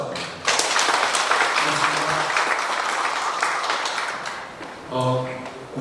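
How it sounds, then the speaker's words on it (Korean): Loud, dense applause fills a hall at a county government briefing meeting, congratulating a professor on an award. It swells quickly, holds steady, then fades as a voice starts speaking over the tail. "고생하신 그 조배호 교수님께 힘찬 축하의 박수 부탁드립니다"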